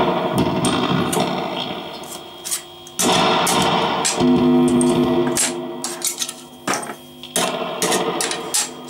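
Distorted electric guitar strums and chords ring out in bursts through a single-coil pickup with its magnet removed, with a thinner, slightly altered tone and changed output, loud and close with short pauses between phrases.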